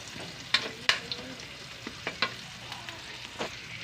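Onion and garlic sautéing in a pan for milkfish sarciado, a soft steady sizzle broken by a few sharp spatula clicks and scrapes against the pan; no one speaks.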